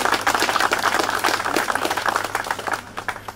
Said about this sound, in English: Give my daughter Ariana Branch a little hand clap if you can.